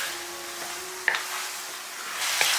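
Dried mei cai stir-fried in a wok with soy sauce, salt and sugar gives a soft, steady sizzle, broken by a couple of sharp spatula clicks against the pan, with no voices.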